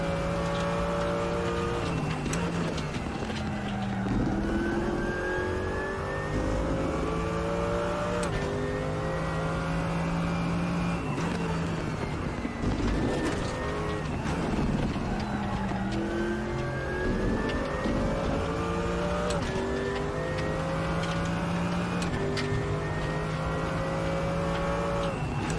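Race cars in the RaceRoom Racing sim during an online ranked race, engines revving hard through repeated upshifts and downshifts, with rival cars roaring close by and tires briefly squealing, loud and continuous.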